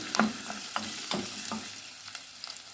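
Ginger and vegetables stir-fried in a hot pan, with a steady sizzle broken by repeated scraping and tossing strokes every half second or so.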